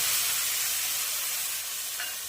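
Mustard, green chilli and turmeric sizzle in a frying pan as they are stirred, a loud, steady, close hiss with faint scraping.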